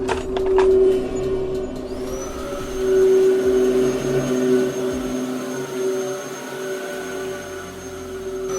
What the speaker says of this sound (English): There's a handheld vacuum in here somewhere.